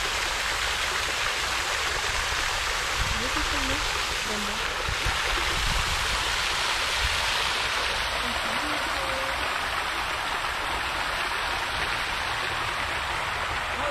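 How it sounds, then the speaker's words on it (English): Steady outdoor fountain splashing in the center of Old Louisville, Kentucky, a broad continuous wash of falling water, close and fairly loud, with faint voices mixed in. "We have a waterfall here. I mean a fountain."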